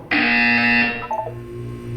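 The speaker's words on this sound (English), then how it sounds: "when you hear the buzzer, look up at the ceiling" A loud, sustained electronic buzzer from the game Portal 2 sounds for about a second, then fades into quieter tonal game sounds.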